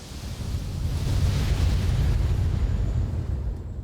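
A mech firing its weapons with an explosion in the BattleTech video game, a sustained loud, deep rumbling blast that swells and holds for several seconds before easing slightly.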